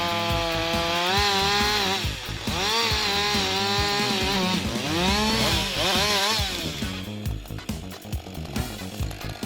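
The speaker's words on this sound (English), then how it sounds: "It is known that this is the cheapest chainsaw in this area" An inexpensive chainsaw cuts into the stump of a tall storm-felled tree, its engine droning loud and close, pitch rising and sagging repeatedly as the chain bites and frees, tapering to sputtering idle at the end.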